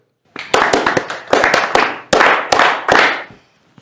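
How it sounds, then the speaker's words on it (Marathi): A classroom of students clapping together for a student's answer, several loud, close bursts of rhythmic hand claps separated by short gaps. "सर्वांनी अभिजितच्या उत्तरासाठी आणि त्याच्या भावाच्या सोप्या शिकवण्यासाठी सर्वांनी टाळ्या वाजवायच्या"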